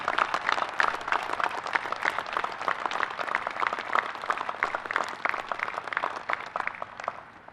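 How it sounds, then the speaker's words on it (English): Audience at a U.S. Coast Guard Academy graduation ceremony breaking into sustained applause, many hands clapping densely and steadily for several seconds before slowly thinning out. "Would you please join me in a round of applause for the members of the Class of 2020"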